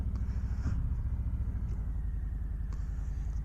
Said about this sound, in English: Ooh, listen to her. Love that Harley rumble.